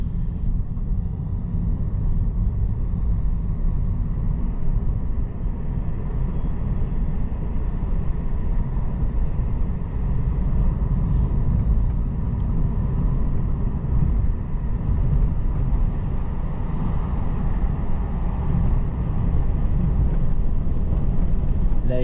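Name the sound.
car driving with the window partly open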